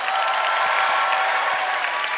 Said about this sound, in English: why don't we give Jesus even a greater resounding applause today